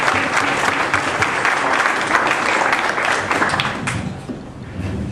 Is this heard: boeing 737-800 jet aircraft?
no